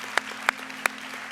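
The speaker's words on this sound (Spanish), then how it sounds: "Give a big round of applause to Jesus." A church congregation applauding in a short burst: a steady wash of clapping with a few sharper, louder claps standing out, heard alone without talk.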